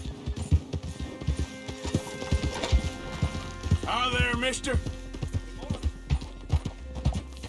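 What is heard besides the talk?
horse hooves clip-clopping in Red Dead video game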